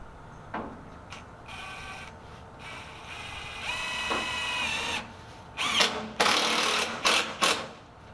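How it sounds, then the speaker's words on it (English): A power driver whirs in short bursts as a screw is driven in to hold a piece down during storm damage repairs, with pauses, clunks and rising, louder final runs. "Put another screw in there to hold it down"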